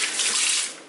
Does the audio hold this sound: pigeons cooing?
no